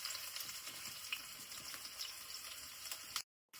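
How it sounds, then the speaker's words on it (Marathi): Chopped onion frying in hot oil for a Konkan-style tempering with asafoetida and ground garlic, a steady close hiss of sizzling that runs without a break and cuts off abruptly near the end. "तर मी आधी ना तेल तापला का कांदो टाकतोय"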